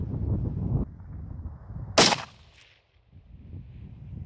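Rifle shot at targets during a review of a SwampFox Warhorse 1-6 FFP scope, one sharp loud crack mid-clip after a stretch of low rumble, followed by a faint ringing and quiet.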